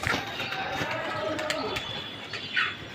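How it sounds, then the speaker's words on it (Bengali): An Indian pigeon in a cage coos softly amid steady background noise, and a person talks nearby. "এই যে একটা ইন্ডিয়ান কবুতর, এটা ইয়া কবুতর,"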